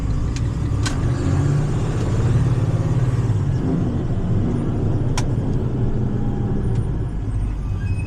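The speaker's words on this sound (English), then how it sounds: "This truck's coming through here." A truck rolls through a Winter Haven street close by, a loud continuous engine rumble and road roar with a brief hiss and a few clanks, with no one speaking.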